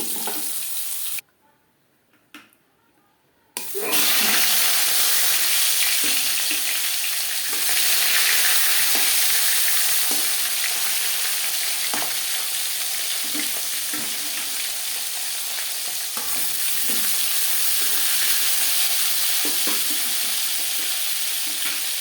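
Whole cumin seeds dropped into hot oil in a wok that was just used to fry fish burst into a loud, continuous close sizzle after a brief near-silent pause, with occasional spatula scrapes and no speech.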